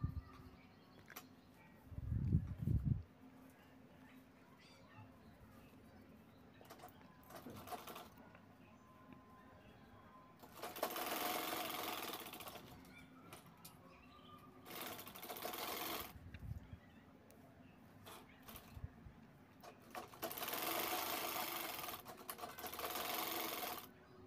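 A sewing machine stitches a folded piping strip along the zip of a cloth handbag, running in several whirring bursts of a few seconds each with quiet pauses between them.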